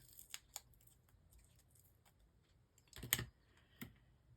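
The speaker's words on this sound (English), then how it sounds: "And then cut it in 3 again." Scissors cutting paper for a mixed media scrapbook layout: a few quiet, separate snips and a louder double cut near the end, close by and faint in an otherwise quiet room.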